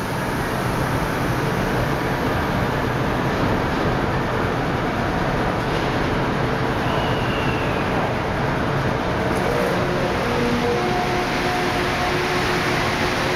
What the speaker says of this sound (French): Le métro qui marche avec des roues.